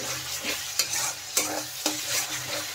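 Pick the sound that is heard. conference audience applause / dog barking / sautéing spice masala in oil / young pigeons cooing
sautéing spice masala in oil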